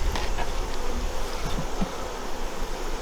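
Honeybees shaken inside a mite wash jar make a dense, continuous buzzing hum close by, with faint knocks as the jar is moved.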